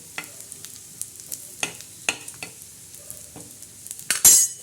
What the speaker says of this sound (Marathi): ते खोबरं छान असं लालसर भाजायचं